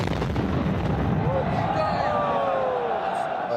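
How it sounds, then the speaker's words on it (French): A suicide bomber's explosive belt detonating in a street outside a stadium during the 2015 attacks, heard as a heavy, sustained rumbling blast with a low roar that fills the whole moment, loud and broad without a sharp single crack. "j'ai entendu une détonation. C'est un bruit inhabituel, c'est pas des pétards"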